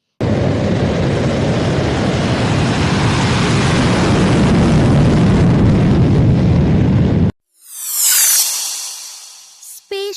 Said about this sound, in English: a jet that flies faster than the speed of sound.